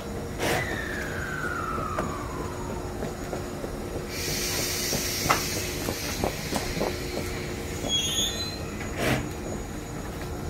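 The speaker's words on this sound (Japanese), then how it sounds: "到着の電車は切り離しを行いました" Train cars clank and bump as they uncouple at Haijima Station in Japan, with metallic knocks, a squealing wheel tone and a low steady hum.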